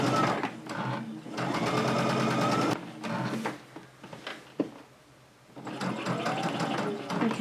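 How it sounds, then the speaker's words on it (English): A sewing machine stitches a quilt seam in fast, steady runs, slowing and pausing between bursts, loud and close with a little background noise. "I just slow down as I get to the bottom because I don't want to sew into the border"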